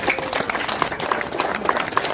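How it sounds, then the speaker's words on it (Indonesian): Crowd applause at a Pilkada 2024 political rally in Papua province, moderately loud scattered clapping with some sharper individual claps, fairly close and sustained for a couple of seconds. "mari kita tepuk tangan dulu."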